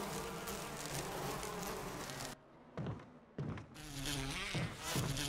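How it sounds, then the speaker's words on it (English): Bees from a giant beehive in the Resident Evil HD Remaster video game buzz loudly and close, the dense drone cutting out briefly twice before resuming in strength. "You see a giant beehive?"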